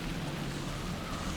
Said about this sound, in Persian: بارون گرفت.